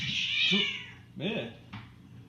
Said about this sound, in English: I got to break up a cat fight.